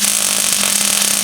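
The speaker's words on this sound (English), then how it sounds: "So you go ahead and pull the trigger and weld it." A welder with a brass nozzle runs a bead on a horseshoe, a loud, steady buzzing crackle with a constant hum throughout, close up and uninterrupted.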